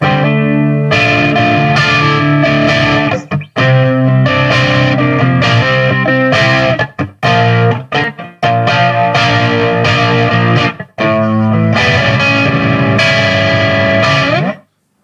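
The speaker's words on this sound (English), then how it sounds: "on the neck pickup, with the volume rolled back a bit, you get a slightly more mellow kind of bluesy" Distorted electric guitar chords on the neck pickup with volume rolled back, strummed in a loose bluesy rhythm, loud and close, with brief gaps between phrases and no voices.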